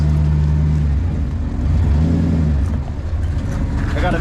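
An off-road truck engine hums and revs while driving out near Elbe, loud and close, with a steady low drone that swells and eases over a few seconds.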